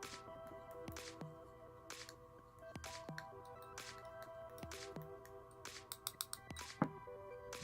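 A liquid mixture is stirred in a container, making faint, soft swishes and light clinks roughly once a second, with a quicker cluster of taps near the end and no talking.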